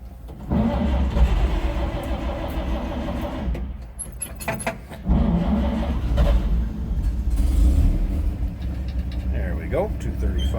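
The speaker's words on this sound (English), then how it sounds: "235 inline 6 fired up." The 235 inline six of a 1954 Chevrolet 3600 pickup cranks, catches and settles into a loud, close idle with a rev or two, while keys jingle briefly and a person talks over it.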